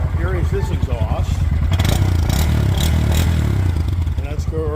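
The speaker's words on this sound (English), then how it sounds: "And let's go over here to the Grom with the Yoshimura. That thing sounds really good." A Honda Grom motorcycle fitted with a Yoshimura exhaust runs close by, its steady, throaty engine note pulsing and rising slightly, loud and continuous throughout.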